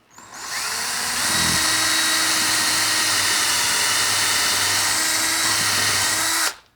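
A power drill fitted with a 1/4 inch bit spins up and runs at a loud, steady high whine for several seconds close by, then stops abruptly, with no talk over it.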